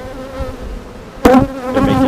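Honeybees buzz steadily inside an open hive during a routine beekeeping inspection, a close, continuous drone with a louder burst of activity partway through.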